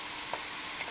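Vegetables softening in a pan for a beef pot pie, a short, even hiss of sautéing with a faint stir.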